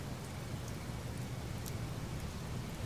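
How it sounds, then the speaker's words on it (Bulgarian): Light rain beginning to fall on a July morning, a soft steady patter of drops with a few brighter ticks, close and alone with no voices. "Започва да вали. Усещаш ли? Ръси малко."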